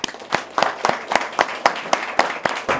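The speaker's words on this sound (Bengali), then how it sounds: "আমাদের এখানে সবার পক্ষ থেকে একটা জোরে তালি দিতে চাই" A crowd claps in steady rhythmic unison for certificate recipients at a ceremony, about ten sharp, evenly spaced claps, close and loud.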